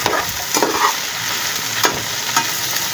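Okra frying with salt in a pan, a steady close sizzle broken by occasional scraping strokes of a spoon as it is stirred, with no talking.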